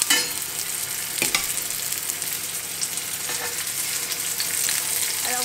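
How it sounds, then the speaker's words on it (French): Turkey escalopes stuffed Florentine-style sizzle steadily as they brown in hot olive oil, a close, continuous crackle with a few sharper pops and spits. "Une fois qu'elle est bien chaude, on va pouvoir commencer à faire dorer nos escalopes"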